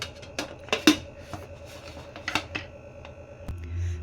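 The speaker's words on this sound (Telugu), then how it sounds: "ఇప్పుడు కుక్కర్ పైన మూత పెట్టేసుకోవాలి." A metal lid set onto a pressure cooker of mutton curry, heard as scattered close clicks and clanks of metal on metal, then a low hum as something settles into place.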